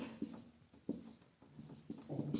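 A pen scratches steadily on paper in short strokes and taps, close and moderate in level, as trigonometry steps are worked out by hand during a class 10 maths lesson.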